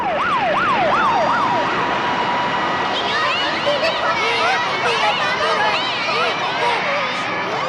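A fire brigade siren wails in fast rising and falling sweeps at the start, then gives way to warbling, chirping electronic tones over a busy background, with voices talking throughout.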